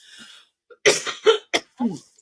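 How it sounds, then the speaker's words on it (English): Several sharp coughs in quick succession, close and fairly loud, after a brief quiet start. "Excuse my cough there for a second."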